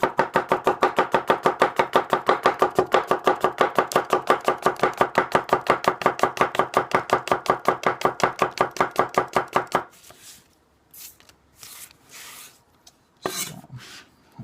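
A Kohetsu HAP40 knife cuts through slick-skinned apples with the core left in, giving roughly forty fast, even chopping strokes against a board for about ten seconds, then a few sparse, quieter cuts and handling sounds.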